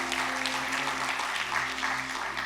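A church congregation at a Sunday service applauds for a child being baptized and the family, steady applause spread broadly across the hall, continuous and even throughout with a low hum underneath.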